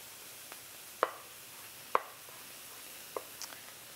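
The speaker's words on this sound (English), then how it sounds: "It is easier to slice chilies and peppers from the fleshy side rather than the plasticky skin." A knife slices through grilled chillies on a board, with a few sharp, quiet taps spaced about a second apart against a soft background hiss.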